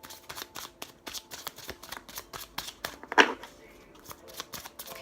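Tarot cards shuffled by hand in a steady run of crisp, close riffling flicks with one sharper snap midway, the shuffling continuing throughout.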